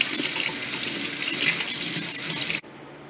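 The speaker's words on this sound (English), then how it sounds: "fill it up with some water" Water from a tap gushes steadily into a small tarantula water dish for refilling, a continuous rushing stream that cuts off abruptly near the end.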